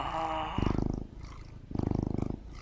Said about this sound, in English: It's gotta be real cat purring,